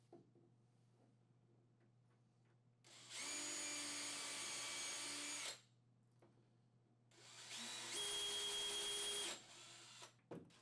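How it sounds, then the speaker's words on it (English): A power drill drives #8 1-1/4 inch screws through a bed header into its vertical on a Murphy bed cabinet, in two loud sustained whirring bursts of a few seconds each, with quiet pauses between and no talking. "Attach the bed header to the vertical with 3 number 8 1 1/4 inch screws."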